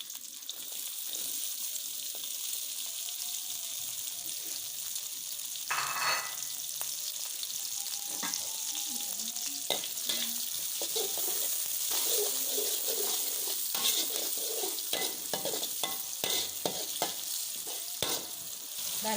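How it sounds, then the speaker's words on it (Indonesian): Chayote shoots stir-fried in hot oil with shallots, scallion and chili give a steady loud sizzle, with intermittent scraping and clinking of a spatula against the pan throughout. "Panasin minyaknya, panas."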